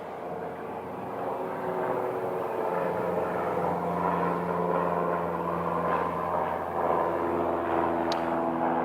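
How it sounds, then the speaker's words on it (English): A Piper Pilot 100 propeller airplane departing Scottsdale airport, a steady droning engine hum with a rising tone that holds at moderate distance for several seconds, with no talk. "And on departure, this is the Piper that we were talking about earlier."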